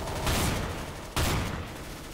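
Two loud shots from a sawed-off shotgun in the video game CS:GO, evenly spaced about a second apart, each a sharp broadband blast with a short decaying tail, heard alone with no talk.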